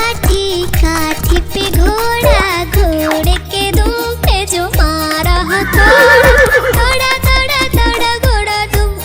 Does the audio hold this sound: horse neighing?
yes